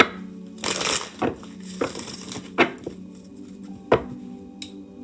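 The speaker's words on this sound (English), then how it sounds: "Shuffling for new moon messages for the collective at this time." Tarot cards shuffled by hand in bursts: a riffling swish, then several sharp taps and snaps of the deck at uneven intervals, close and fairly quiet over a low steady hum, with no talking.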